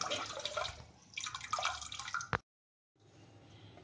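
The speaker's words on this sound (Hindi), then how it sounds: "ये हमने इसको अच्छे से मसलिन क्लॉथ में डाल के निचोड़ लिया है।" Liquid drips and trickles from pineapple wine mash as it is squeezed by hand through muslin cloth, a close, uneven patter with a brief sharp knock, a short silence, then a softer steady trickle.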